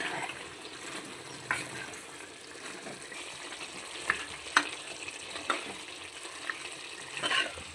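Steady sizzling of mutton curry with chilli powder frying in a pan, with scattered scraping clicks of a spoon stirring at irregular intervals, close by.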